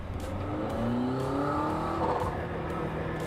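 McLaren Artura in sport mode, its engine droning and rising in pitch as it revs, with a steady, loud tone that climbs and falls across a few seconds and no talking.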